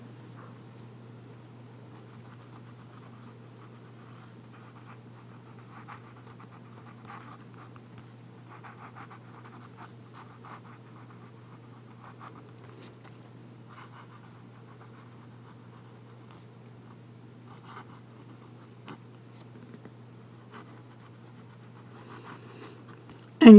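Lamy Safari fountain pen nib scratching faintly across paper while reverse writing, a soft, steady stream of small rasping strokes over a low background hum, ending with a brief louder knock.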